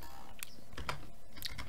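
Keys clack on a computer keyboard as a shift-and-asterisk combination is pressed, a few quiet, close, separate clicks over a low background hum.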